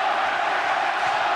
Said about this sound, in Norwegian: Hør på hjemmefansen, de vet hva som kommer.